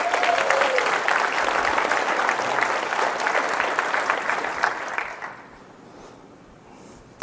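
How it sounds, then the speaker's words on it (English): An audience claps loudly for about five seconds, then the applause quickly fades to a quiet room. "they need a round of applause for that one too"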